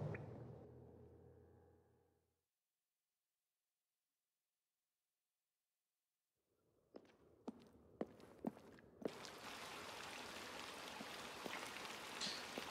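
Rain falls in the video game Below, starting after a long silence as a steady hiss, with several sharp footstep-like knocks mixed into the downpour.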